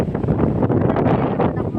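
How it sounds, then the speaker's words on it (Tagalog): Strong wind buffeting the microphone in a constant loud roar, with gusty rumbling and no pauses. "Grabe ang lakas ng hangin dito guys."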